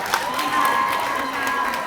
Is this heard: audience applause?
yes